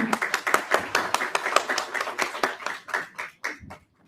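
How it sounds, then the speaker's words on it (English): Audience clapping at a live React Kolkata tech event, a sustained burst of many hands that thins into a few scattered claps and stops near the end. "And a big round of applause for you all."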